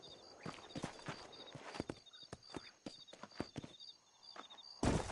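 In the Western video game Red Dead Redemption, horses' hooves clip-clop in quick, uneven beats over a dry surface. The steps sound at a moderate distance, and a brief louder burst follows near the end.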